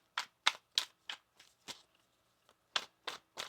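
Tarot cards being shuffled: a run of crisp, close riffling bursts in quick succession, a brief pause, then three more bursts, with no talking.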